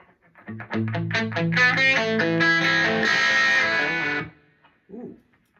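Electric guitar through a Boss Katana amp on the crunch setting: a loud, gritty run of notes building into a ringing chord that cuts off abruptly, followed by a brief soft note.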